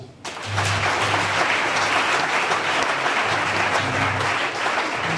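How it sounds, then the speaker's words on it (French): Church congregation applauding together, a steady, dense clapping that starts abruptly and holds at a strong, even level for several seconds. "Acclame pour cela"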